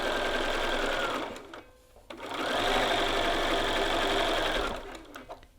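A sewing machine runs steadily as it stitches a yoke seam in a garment, a continuous whirring hum that slows and nearly stops for a moment, then picks back up at full speed before easing off near the end.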